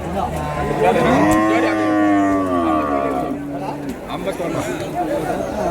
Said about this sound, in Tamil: இந்த பக்கம் பார்த்தீங்கன்னா எல்லாம் நம்ம நாட்டு மாடுங்க தான் எல்லாம் நிற்கிறது